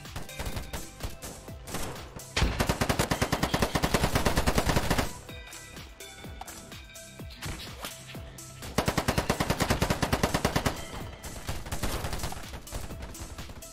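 Automatic AK rifle fire in the tactical shooter Ready or Not, loud repeated bursts of rapid shots with a sharp rattling rhythm, some bursts long and sustained, set against game ambience.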